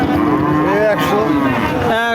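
A cow moos loudly and close by at a cattle market, a long drawn-out low call followed by a shorter rising one at the end.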